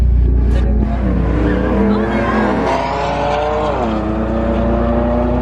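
Race cars, including an Infiniti and a truck, roar past with revving engines and pitch shifts, a tire squeal cutting in, loud and close on the street.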